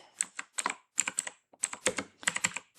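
Keys clatter on a computer keyboard as a short file name is typed for a CapCut video export, in quick bursts of close, crisp clicks separated by brief pauses, with no talking.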